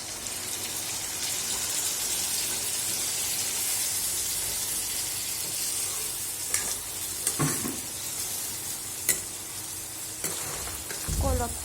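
Meat sizzles and fries steadily in a pan as vedailota leaf juice is poured in, with stirring scrapes and a few sharp clinks of a utensil toward the end; no one speaks.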